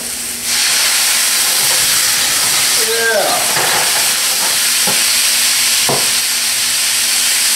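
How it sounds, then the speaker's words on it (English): Venison steak flambéed with port in a hot pan, giving a loud steady roar of hissing and sizzling flame that persists throughout, with a few scraping clinks and taps of the pan partway through. "At this point, I'm going to flambe it."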